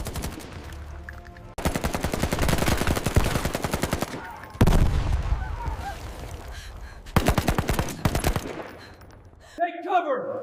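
Battle gunfire with rapid machine gun bursts, loud and close, in several long sustained volleys separated by short gaps, with a brief shout near the end.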